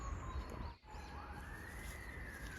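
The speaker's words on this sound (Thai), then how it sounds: "เสียงรถหวอนะคะ" An emergency vehicle siren wails faintly in the distance over quiet mushroom-foraging woodland in Thailand, its tone rising and falling in slow sweeps beneath a low background hush.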